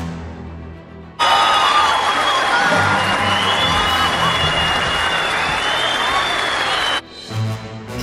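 A theater crowd gives a standing ovation, loud sustained applause and cheering roaring steadily for about six seconds before cutting off abruptly.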